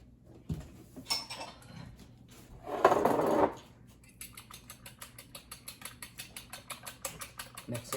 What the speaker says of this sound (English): Mix it real good.